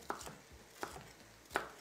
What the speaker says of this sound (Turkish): Kapya biberi de şöyle kabaca doğradım